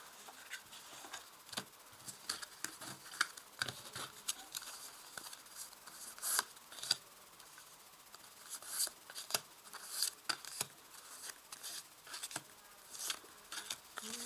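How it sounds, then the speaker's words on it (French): A deck of tarot cards is cut and handled, making soft, scattered papery taps, rubs and flicks. The sounds are close and quiet, arrive in irregular bursts and have no talk over them. "On va faire la découpe du jeu."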